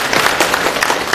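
Audience applause at a book presentation in a bookstore, a brief steady patter of clapping hands from a room of listeners, moderately loud, with no voices over it.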